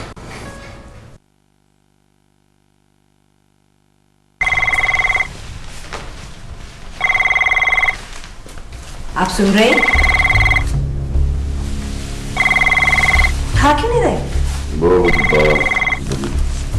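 A telephone rings in repeated bursts with pauses between, loud and close, while people talk over and between the rings.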